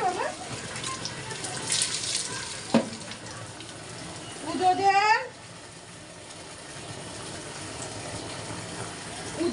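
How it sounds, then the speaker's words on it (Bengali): Animals being bathed before a puja: running and splashing water rushes steadily, with a louder gush and slosh midway, while people talk nearby over the wash. "পুজোর জন্য সব স্নান করে নিচ্ছে।"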